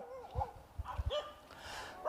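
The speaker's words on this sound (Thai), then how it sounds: "ป้าไหลหรือนางวิไลพรแสงละเอียด ซึ่งกำลังให้ข้าวให้น้ำกับสุนัข" A pack of stray dogs being fed near a rubber plantation gives several short, close barks in quick succession, mixed with high whines and whimpers.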